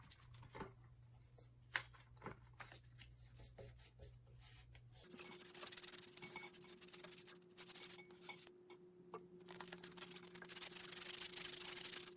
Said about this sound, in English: I'm going to sand it.